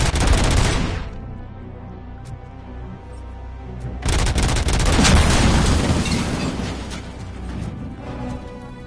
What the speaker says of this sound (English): Just hear massive explosions.